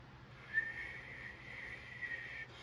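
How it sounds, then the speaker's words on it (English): Someone who can't whistle attempts a whistle, producing a thin, breathy, fairly steady tone that swells slightly twice. It is faint and heard alone. "I'm trying to whistle to avoid reading the next sentence"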